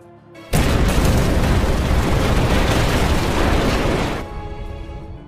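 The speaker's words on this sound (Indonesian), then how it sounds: "meledakkan bahan peledak yang dia buat" A sudden loud film explosion bursts in and roars with dense rumbling debris for several seconds before cutting off sharply, followed by a faint tail.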